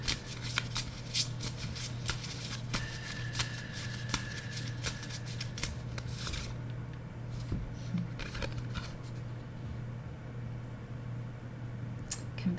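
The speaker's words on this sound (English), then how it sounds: "let's see what the cards are saying for Kimberly." Tarot cards being shuffled for a reading, a steady papery riffling and flicking that continues throughout over a constant low hum, with a quieter stretch in the second half.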